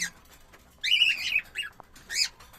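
A one-and-a-half-year-old female jumbo budgerigar gives close, loud harsh squawks and chirps in two or three short bursts against a quiet background.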